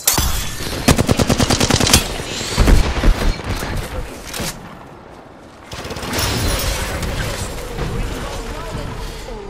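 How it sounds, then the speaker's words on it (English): Rapid automatic gunfire bursts and heavy shots crackle in the Apex Legends video game on the Broken Moon map, loud and close, with rattling volleys, a brief lull and then mixed game sounds and a voice. "Getting shot at."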